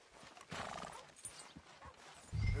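Horse hooves clop softly at a walk in Red Dead Redemption 2, faint and somewhat distant, with a low thump near the end.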